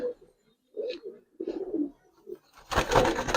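Giribaz pigeons give several low, throaty coos in short bursts close by, followed by a sudden rush of noise like flapping wings.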